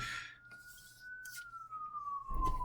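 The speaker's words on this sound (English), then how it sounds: "If you hear in the background, that's an ambulance." A distant ambulance siren wails in a long, slowly falling tone near a hotel by a hospital, steady and faint, with some low background noise underneath.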